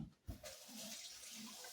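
A kitchen faucet runs as the water is left to warm up, a brief, quiet, steady rush of water after a small knock, heard close with no talk.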